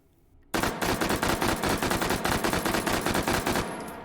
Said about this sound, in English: Can the muzzle brake tame the 2-round burst?